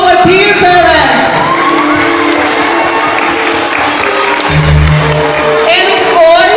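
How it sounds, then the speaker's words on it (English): A crowd at a school Parade of Nations event claps and cheers loudly and continuously, with shouts and whoops rising over a dense wash of applause. "kindly give a big round of applause to our dear parents"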